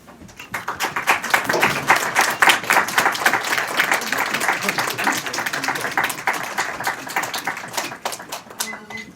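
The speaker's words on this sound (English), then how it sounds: "could just stand up so we can give them an applause as well" Applause from a crowd, dense rapid clapping that swells quickly after a quiet start and stays steady and fairly loud until it thins at the end.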